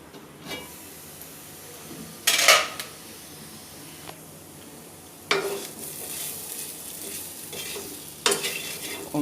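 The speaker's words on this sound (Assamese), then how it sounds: "কম জুইত ভাজি আছোঁ" Potatoes fry in a pan on low heat under a lid, giving a soft steady sizzle broken by a few sharp clinks and scrapes of a utensil or lid against the pan.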